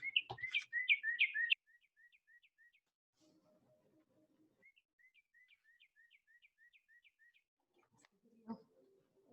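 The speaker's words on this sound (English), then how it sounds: "So here's the sound of the northern cardinal." Bright, clear whistled northern cardinal song: a loud burst of slurred notes, then a long run of evenly spaced downslurred chirps repeated steadily, with faint rustling between phrases.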